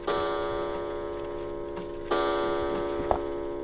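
Steady ticking of a mother's clock in the stealth game The Very Organized Thief, a regular close tick-tock over a low constant hum, with a louder knock partway through.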